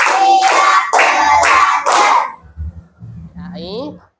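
Schoolchildren clap together in a counting clap game, five sharp group claps in quick even rhythm, followed by quieter voices and shuffling in the classroom.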